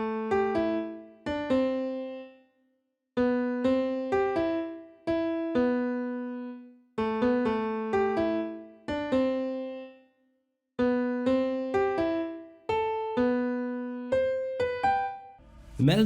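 A slow future house synth melody of plucked, bright chord notes in repeating phrases, with brief gaps between some phrases. Loud and alone, with no voices.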